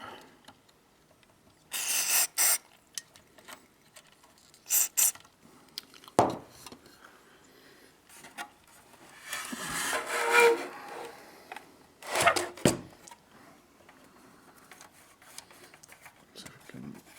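Stiff control knobs on a Zenith 9-inch black-and-white TV are turned and worked loose, giving scattered close scraping and rubbing bursts separated by quiet pauses.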